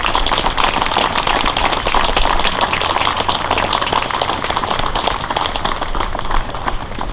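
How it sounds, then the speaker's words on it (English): Dense, steady applause from a crowd at a September 11th remembrance ceremony, honoring high school band students; the clapping runs continuously and evenly throughout, with no voices standing out. "Let's give our high school students in both bands a round of applause."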